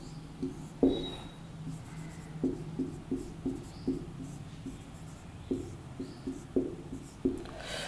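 Chalk or marker writing a topic on a board during a Hindi lecture, with a series of short tapping and scratching strokes in an irregular rhythm, fairly close and moderately loud, without speech.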